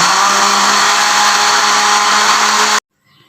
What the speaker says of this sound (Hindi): उस ब्लेंडर में आधा कप दूध डालकर इनको अच्छी तरह से ग्राइंड कर लें।